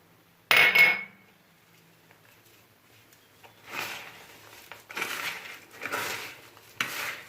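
Biscuit crumbs and butter are kneaded by hand into a truffle-bite mixture: one sharp clink early on, then a quiet pause before several soft, crunchy squishing bursts close by.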